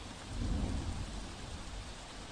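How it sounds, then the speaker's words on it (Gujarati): Heavy downpour pounds the city of Surat, a dense, steady roar of rain on surfaces with deep rumbling undertones, loud and continuous with no voices. "સુરત શહેરમાં વહેલી સવારથી ધોધમાર વરસાદ વરસી રહ્યો છે"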